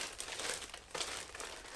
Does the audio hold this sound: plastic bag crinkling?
yes